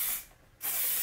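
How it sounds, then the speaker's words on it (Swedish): Two bursts of aerosol shoe care spray misted onto shoes, a short hiss that fades briefly then resumes steadily and close. "Och så sprayar jag på de här då."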